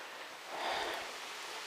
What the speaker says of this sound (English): Oh, the rain's coming down heavy.